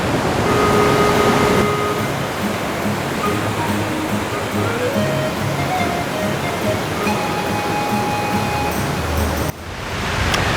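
Nooksack Falls waterfall, a loud steady rushing roar of falling water, continuous throughout with faint tonal sounds layered on top and a brief dip near the end.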